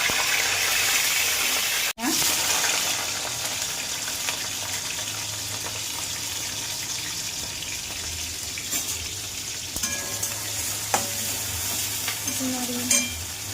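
Dried red chillies frying in a pan with a steady close sizzle, stirred with scraping spoon strokes and a sharp knock near the start, continuing throughout with faint background noise.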